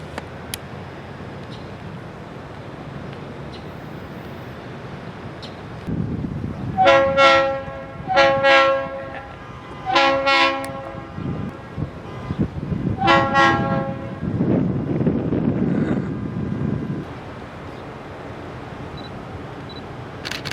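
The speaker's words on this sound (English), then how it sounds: "the downtown job finally gets its permission to come off the CIS siding onto the East Main" A long freight train in the Miami area rumbles past, coming off a siding onto the main line, with several loud blasts of its horn in groups over a steady rolling rumble of cars.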